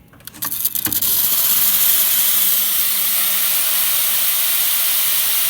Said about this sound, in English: now we're gonna do some steam.